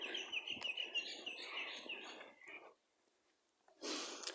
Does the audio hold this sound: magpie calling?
yes